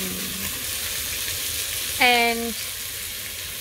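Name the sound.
bacon and baby onions frying in a potjie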